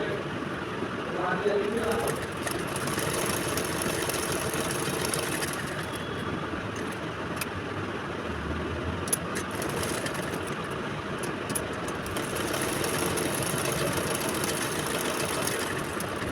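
A sewing machine runs steadily while stitching doubled fabric strips for a girl's palazzo, a continuous motor whir with faint clicks over sixteen seconds, with a voice speaking over it.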